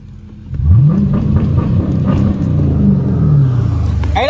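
A widebody Dodge Challenger Scat Pack 392 V8 rises from idle into a deep throaty rev, holds a loud rumbling burble, then climbs again near the end, heard from the cabin while driving through city traffic.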